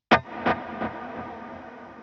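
An electric guitar strikes a single note that repeats as three fading echoes, then trails off into a washy reverb tail.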